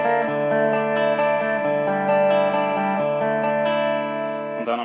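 An electric guitar on a clean amp channel with no effects plays a short sequence of clear, ringing chords and notes, moderately loud and up close, with a bright final strum, and no voices.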